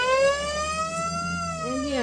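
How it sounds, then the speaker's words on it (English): A boat's siren, inside a shed, sounds as a loud steady wail, its pitch holding then bending near the end, close by with no speech. "it has a siren"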